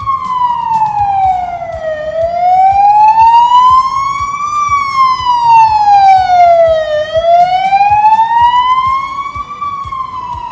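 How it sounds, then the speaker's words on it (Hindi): An ambulance siren wails steadily, its pitch sweeping slowly up and down in long, loud cycles over a low rumble of road noise, with no voices. "एम्बुलेंस भी आ गई।"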